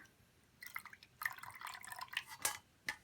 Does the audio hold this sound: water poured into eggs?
yes